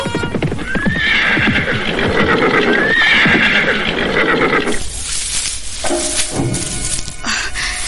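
A horse whinnies twice in long, shrill calls over a steady clip-clop of hooves. Loud and close, the trotting then fades into scattered thuds and shuffling as the animal slows.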